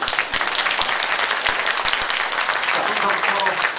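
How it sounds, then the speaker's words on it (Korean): An audience at a Korean redevelopment association briefing in December 2024 claps in steady, dense applause that stays loud from start to finish, with a voice audible underneath. "여태까지 열정 어린 강의 해주신 한영기 조합장님한테 다시 한번 큰 박수 부탁드립니다."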